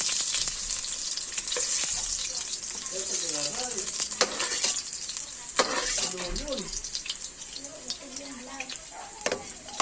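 Onions sizzle and fry in a pan as the base for adobong pusit, a steady bright hiss throughout with occasional stirring scrapes and some background voices.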